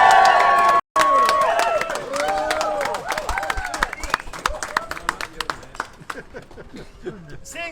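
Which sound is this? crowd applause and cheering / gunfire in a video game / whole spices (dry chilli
crowd applause and cheering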